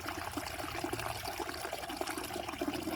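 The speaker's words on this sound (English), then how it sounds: "But it's more constant here. More free flowing. Much more water here." A free-flowing stream near the head of the Ravensbourne River runs with a constant, close rushing and gurgling wash of water and no voices.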